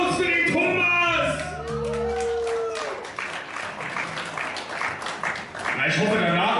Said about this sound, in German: Großer Applaus für den Thomas!